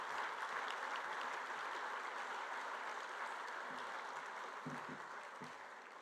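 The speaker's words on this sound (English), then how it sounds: "another massive round of applause for the Prime Minister" A luncheon audience at Lexus of North Shore applauds the Prime Minister, Christopher Luxon, with steady, sustained clapping that slowly tapers, heard at moderate distance with a few thumps near the end.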